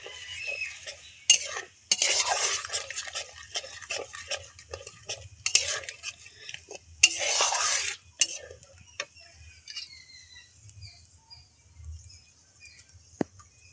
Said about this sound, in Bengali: টক দইটা দিয়ে ভালো করে মিশিয়ে নিতে হবে